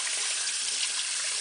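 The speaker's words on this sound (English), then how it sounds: "So we're gonna rinse it under cold water" Cold tap water runs over a peeled boiled egg, a steady close hiss of flowing water with no voices, lasting just over a second.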